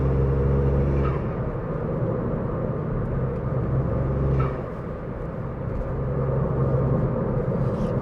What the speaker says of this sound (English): Them turbo noises still don't get old. Induction. You can hear it just sucking.